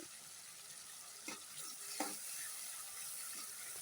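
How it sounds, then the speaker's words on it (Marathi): Oil sizzles and fries steadily in a tempering for a Marathi chutney being sautéed until the oil separates, with a couple of soft stirring scrapes over a constant close hiss. "फोडणीमध्ये टाकून छान असं तेल सुटेपर्यंत परतून घ्यायचं।"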